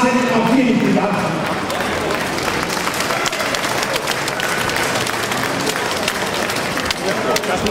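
Sustained applause and cheering from a sellout home crowd in an arena at a women's first-division Bundesliga volleyball match between Schweriner SC and Allianz, loud and continuous throughout, with a voice over the PA speaking at times.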